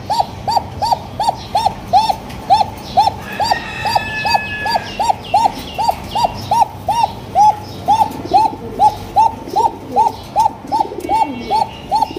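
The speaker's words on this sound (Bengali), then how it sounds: "আসলে এনে দেওয়া যায় আরো 2 জোড়া কবুতর" Pigeons coo in a steady, rhythmic series of loud, close calls, evenly spaced and repeating throughout, with a faint chirpy bird sound briefly in the background and no talking.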